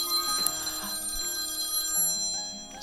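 A telephone rings over the full stretch, a steady electronic bell with bright repeating tones, fairly loud and close, with no voices.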